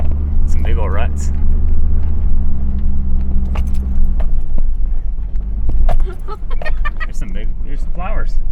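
A 4-wheel drive vehicle rolling over rutted dirt back roads near Prescott, Arizona, giving a steady loud rumbling drone inside the cab with rattles and bumps, while someone talks over it.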